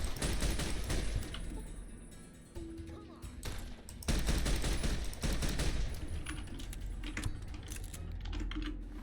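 Enemy gunfire in Fallout New Vegas, rapid bursts of shots crackling in irregular volleys, dropping off briefly before resuming louder, with faint keyboard-like clicking mixed in.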